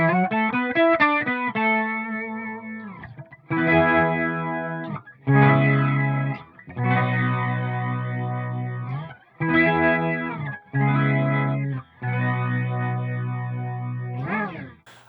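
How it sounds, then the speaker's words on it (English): An electric guitar runs through a Boss MO-2 Multi-Overtone pedal with a warm, organ-like tone, playing a quick rising arpeggio and then several sustained chords separated by brief pauses. "Let's go on to setting 2, which to me is really where it sounds like a rock and roll organ"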